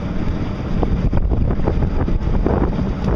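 Radio-controlled model boat running smoothly across the water, heard as a continuous buzzing drone mixed with heavy wind noise on the microphone and splashing water, with no voices.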